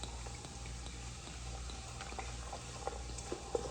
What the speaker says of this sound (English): we're going to pour it over the bones